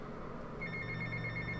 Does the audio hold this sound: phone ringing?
yes